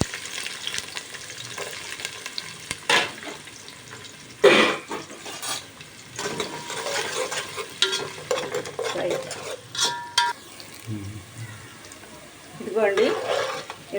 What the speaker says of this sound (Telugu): ఇంకా ఉల్లిపాయలు, పచ్చిమిరపకాయలు వేస్తా.